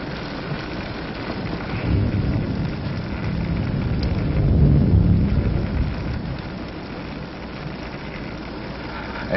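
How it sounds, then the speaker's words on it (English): Steady rain pours in a broad, continuous wash, with a low rumble of thunder swelling near the middle before easing back; no voices are heard. "It's raining."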